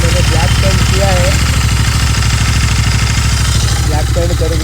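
A black-painted motorcycle engine idles with a steady, close, continuous thrum and light mechanical clatter, with people talking briefly over it.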